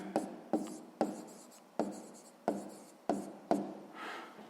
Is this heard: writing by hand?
yes